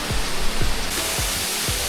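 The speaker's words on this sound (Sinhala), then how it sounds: "අතන වතුර ටික තමයි වැටෙන්නේ" Nalagana Ella waterfall, running low on water, gives a steady broadband rush, heard alone with a few dull low thumps.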